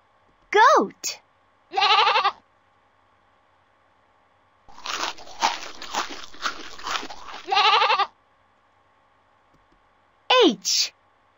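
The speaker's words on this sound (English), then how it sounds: "Goat." A goat bleats in a learning game for babies: several quavering bleats with long silent gaps between them, plus a longer stretch of rough, noisy bleating in the middle.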